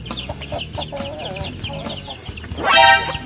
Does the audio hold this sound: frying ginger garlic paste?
no